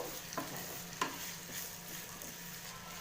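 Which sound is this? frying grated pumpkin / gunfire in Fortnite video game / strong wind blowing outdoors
frying grated pumpkin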